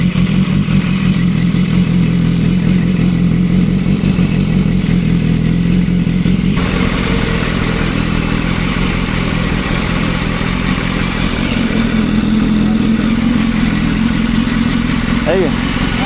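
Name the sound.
BMW S1000R motorcycle doing a burnout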